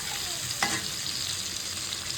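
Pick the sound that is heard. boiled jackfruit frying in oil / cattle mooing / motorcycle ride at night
boiled jackfruit frying in oil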